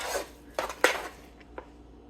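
Spoon stirring sour cream into mashed potatoes in a pot, a few soft scraping and clinking strokes against the pot with short pauses between, quiet and close.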